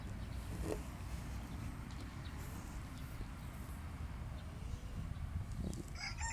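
A rooster crows at a hobby poultry breeding yard, distant and faint beneath steady low background rumble and outdoor noise, with no talking during the call.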